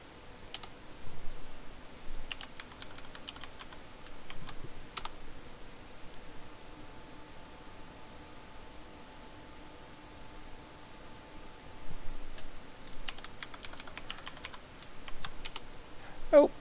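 A username being typed on a computer keyboard at a VMware vSphere 5.5 console: short bursts of crisp keystrokes near the start, middle and end, separated by quiet stretches.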